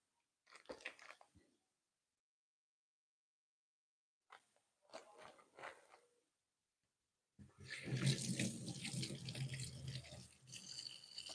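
Water runs from a tap in bursts, a short splash, a pause, another burst, then a steady louder rush of running water with scrubbing.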